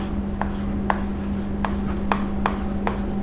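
Chalk or marker strokes on a classroom board during an accounting lesson: a series of short, crisp scratches spaced about half a second apart over a steady low electrical hum, with no talking.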